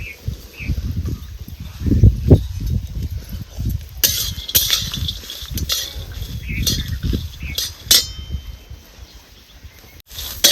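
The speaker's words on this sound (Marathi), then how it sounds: "आता तवा गरम कराय ठेवायचा सगळ्यात अगोदर आपल्याला ही कासाचं दाणं भाजून घ्यायचं चांगलं" Corn kernels roast on a hot griddle over a wood-fired village stove, with irregular scraping, rattling and clattering bursts from stirring, up close and fairly loud.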